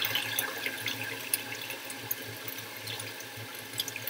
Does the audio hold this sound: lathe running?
no